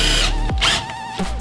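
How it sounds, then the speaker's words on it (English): A drill with a regular bit drives small self-tapping screws into mending plates, giving short close whirring bursts of the motor with brief pauses between them. "you can just use a regular apex on your drill to drive these things"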